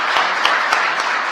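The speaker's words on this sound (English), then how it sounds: "So can we please applaud and thank the Secretary of Education." Steady, dense applause from an audience at a government advisory commission swearing-in ceremony, loud and close, filling the short stretch without a break.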